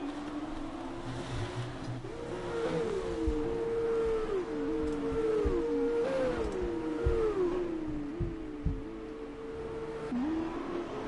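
Race cars in an F1 esports league race at the Mexican Grand Prix in a video game, engines droning and shifting pitch as they accelerate and change gear, several cars overlapping at close range without talk.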